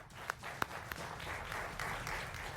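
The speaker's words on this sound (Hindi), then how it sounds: "आप दोनों के लिए जोरदार तालियां" Applause from a studio audience on a televised political debate show: a few sharp, separate claps at first, then a softer, thinner wash of clapping, fairly faint overall.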